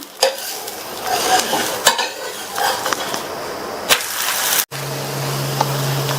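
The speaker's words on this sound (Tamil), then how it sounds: "இந்த மாதிரி சுத்திலும் எண்ணெய் விட்டுட்டு மேலையும் கொஞ்சமா எண்ணெய் விட்டுட்டு திருப்பி போட்டுடலாம்." Dosa frying on a hot pan with oil drizzled around it, a steady close sizzle broken by spatula scrapes and knocks, then a brief cut as it is flipped, followed by a lighter hiss.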